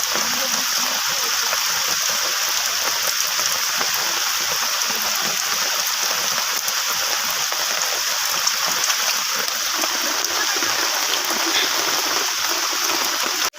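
Continuous roar of heavy rainfall on rice paddy fields in Kalamusre village, Uran, steady and enveloping throughout, with no voices and no letup.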